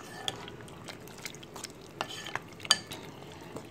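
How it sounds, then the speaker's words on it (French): A spoon stirs shrimp accras batter in a bowl, giving soft, irregular scraping and light clinks close by, with a few sharper taps against the container. "Brasse comme il faut."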